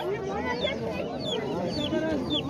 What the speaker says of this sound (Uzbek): Kuchli qo'roz ekan.